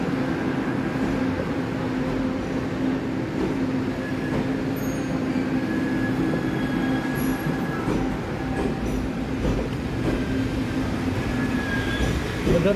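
A Taiwan Railway train rolls past nearby with a loud, steady rumble and hum, faint wheel squeal and clatter running throughout.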